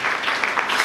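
A church congregation bursts into a brief, dense round of applause and clapping, loud and close, with no voices over it.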